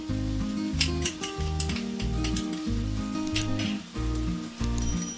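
Masala spices sizzle with softened tomatoes in a hot pan, a steady close frying crackle with periodic low stirring scrapes and clinks.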